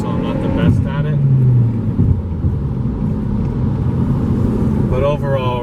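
A 2013 Mazda Speed 3 engine rumbling loudly and steadily from inside the car as it downshifts, with a brief rise in revs near the start and muffled speech over the drone.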